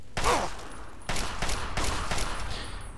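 Several gunshots from a weapon in the video game Fallout 3, a rapid burst followed by separate loud reports spaced about half a second apart, close and sharp, with no talking.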